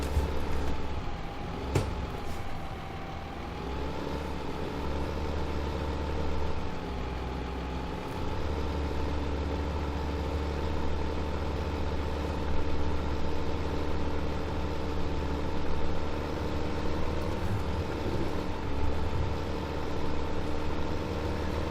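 A tractor engine idles in Farming Simulator 2015, a steady low mechanical drone running continuously and fairly loud throughout, with slight shifts in tone but no talk.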